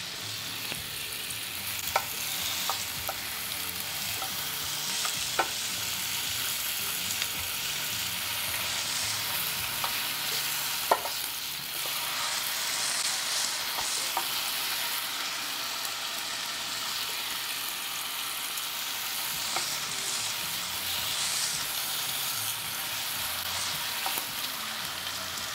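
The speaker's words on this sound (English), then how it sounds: "Hear that sizzle?" A couple of bacon strips sizzle on a Ninja Foodi Smart XL Pro grill and griddle, giving a close, steady crackling hiss with scattered sharp pops throughout and no talking.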